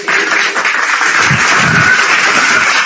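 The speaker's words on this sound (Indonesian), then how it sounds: "Tepuk tangan lagi." An audience bursts into applause during an interfaith debate, a loud, dense wash of clapping that fills the room for a few seconds.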